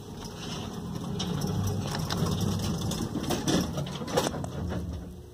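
A Montgomery elevator in the Franklin building in Oakland, California, riding upward with a steady low mechanical hum and faint rattles and clicks throughout, no talking.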